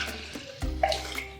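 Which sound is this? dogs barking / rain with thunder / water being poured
water being poured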